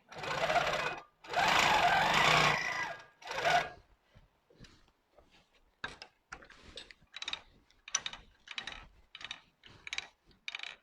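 A longarm quilting machine stitches in a few loud, sustained runs, then moves to a series of short, sharp mechanical ticks and clicks as it steps along.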